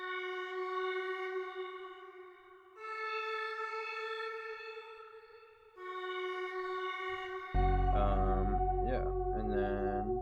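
A reverb-soaked pad accent with its lows cut and a phaser applied swells through long sustained chords in a jungle/drum and bass track made in FL Studio, before a deeper, fuller section enters near the end.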